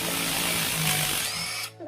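A Ryobi 1/2-inch impact wrench fires in one short, loud, buzzing burst of rapid hammering, then cuts off at the end. It is used while fitting a locker to a tow rig.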